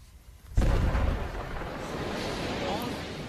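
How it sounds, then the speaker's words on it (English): A blast from two sticks of explosive hits with a sudden loud boom, then a long rumbling roar that stays strong and sustained for several seconds, heard alone. "Big explosion from 2 sticks, I can't believe it."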